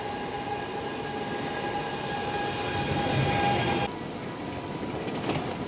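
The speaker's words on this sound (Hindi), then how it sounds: "ट्रेन तो बहुत ही क्राउडेड है।" Steady rumble and rattle inside a crowded moving train on the way to the airport, a constant close roar of the carriage with a faint tonal hum, dropping slightly near the end, no voices.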